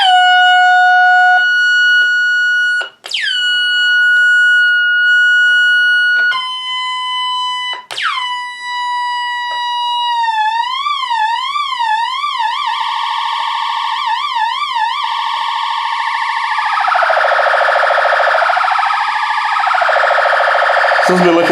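Stylophone Gen X-1 portable synth playing stepped high tones that slide into a warbling, wobbling LFO sweep, loud and close with a spacey siren-like character, no talk.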